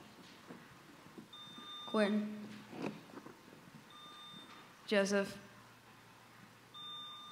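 Quiz bowl buzzers at an academy competition sound as short electronic beep tones, two distinct buzzes a few seconds apart, with students briefly saying their names in between.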